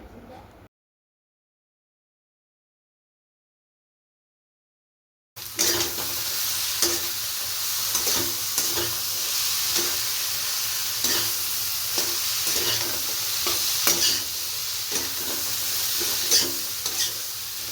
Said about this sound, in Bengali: এখন ভালো করে সাঁতলে নেওয়া হবে।